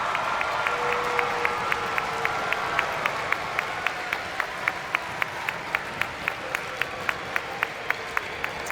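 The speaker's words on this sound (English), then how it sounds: "give our veterans one last big cheer and clap" A crowd applauds steadily with sharp individual claps standing out, a sustained wash of clapping that holds throughout, with faint cheering mixed in.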